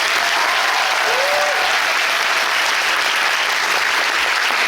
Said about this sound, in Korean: 전남팀 박수 주세요.